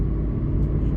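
A person's voice imitates a car, giving a steady low engine-like rumble that holds for about a second, close and fairly loud, with no other talk.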